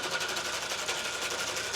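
A threading machine in an iron engineering workshop in Malappuram cuts threads for a jack with a steady, fast, whirring mechanical hum and a light rhythmic chatter, moderately faint and close, with no voices.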